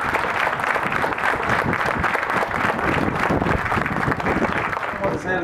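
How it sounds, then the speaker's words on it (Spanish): A crowd at a church celebration for the Virgin in Nauzontla claps in sustained, dense applause at full strength, with voices mixed into the clapping throughout. "Vamos a regalarle el primer aplauso de la noche a nuestra virgencita"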